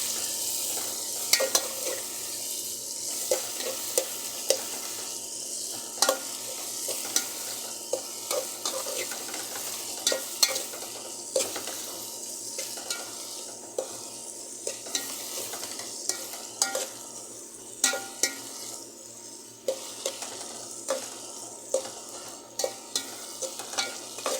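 Red chilies fry in a pan with a steady soft sizzle, while a spoon stirs and scrapes in repeated sharp clinks and rattles against the metal; no voices.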